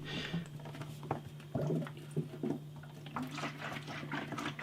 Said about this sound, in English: Bit of a shake. Mixing all that lovely yeast, all the wort, all the water.